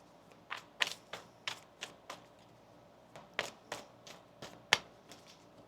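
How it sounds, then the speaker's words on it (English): Tarot cards are shuffled by hand, giving a quiet, irregular series of crisp clicks and soft snaps spread over several seconds, close up with no talking. "One more shuffle here."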